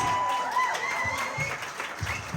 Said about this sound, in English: Round of applause for Kaylee, guys.